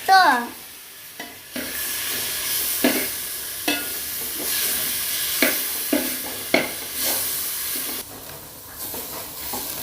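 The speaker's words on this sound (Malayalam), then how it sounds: "ആ തക്കാളി ഒന്ന് നന്നായിട്ട് വെന്ത് വരുന്നിടം വരെ നമ്മൾ ഇതുപോലെ ഒന്ന് ഇളക്കി കൊടുക്കുക" Tomatoes are sautéed and stirred in a pan for beef curry: a continuous sizzle is broken by repeated scraping and clacking strokes of a spoon, with a brief voice at the very start.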